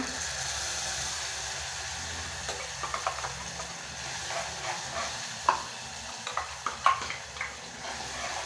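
Chopped tomato frying in a pan with browned onions for a brinjal masala curry, a steady faint sizzle with scattered stirring scrapes and clinks, no talking.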